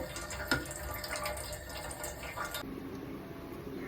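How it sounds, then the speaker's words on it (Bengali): Starchy water pours off a pot of freshly cooked rice in a home kitchen, a steady close splashing and gurgling stream that runs continuously and shifts in tone partway through. "এবার আমি ভাতটাকে গড় দিয়ে নেব"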